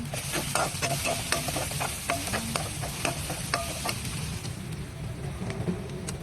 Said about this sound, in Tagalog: Eto, isinabay ko na rin na iprito ang ihahalo kong saba.